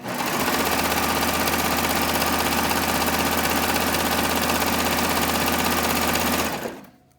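Sewing machine stitching a rolled hem on a tee at medium speed, a loud, steady close mechanical whirr with rapid rhythmic needle chatter, running continuously then stopping near the end.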